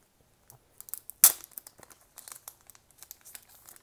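Album photo card packaging being opened, a string of crinkling plastic rustles and sharp tearing snaps with one loud rip near the start, close and alone with no talk.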